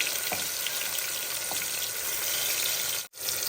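Tomatoes, garlic and green chilies fry in hot oil with a steady, dense sizzle that runs close and loud almost throughout, with a brief drop to near silence just past the three-second mark.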